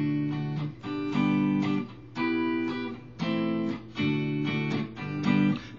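Electric guitar plays a chord progression, six rhythmic strummed chord blocks with short gaps, close and steady, no talking.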